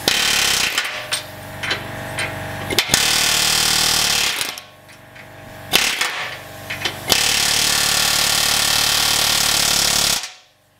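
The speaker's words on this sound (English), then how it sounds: "we'll do them with the cutoff wheel" A cutoff wheel grinds through metal, loud and harsh at close range, running in long continuous bursts broken by short pauses before cutting off just before the end.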